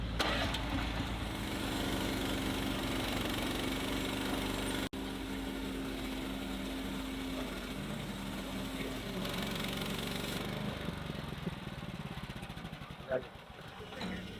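A portable sawmill motor runs while milling lumber at the Okie Homesteading Expo, droning steadily and loudly throughout, with voices faintly mixed in.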